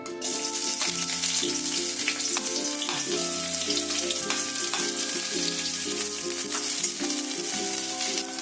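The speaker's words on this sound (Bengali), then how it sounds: "তেলটা খুব ভালো করে গরম হয়ে গেছে, আমি দিয়ে দেব পেঁয়াজ কুচিটা।" Chopped onion fries in hot mustard oil with a loud, continuous, close sizzle throughout, alongside a few faint clinks of stirring.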